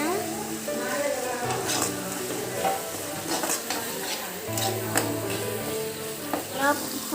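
Onions sizzle and fry in a home kitchen pan while a utensil scrapes and stirs them in repeated clattering strokes, the steady hiss running continuously underneath.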